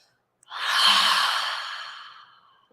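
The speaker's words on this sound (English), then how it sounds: "Maybe a couple of exhales through the mouth." A single long, audible exhale through the mouth during a full moon practice session, swelling quickly and then tapering off gradually over about two seconds, close and alone with no talking.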